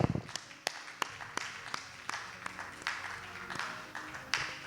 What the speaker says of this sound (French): Nous pouvons acclamer pour la parole de Dieu. Acclamons, acclamons le Seigneur.